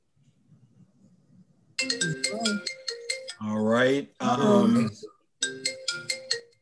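A phone rings in repeated electronic tone bursts during a legislative committee roll call, and people speak briefly between the rings.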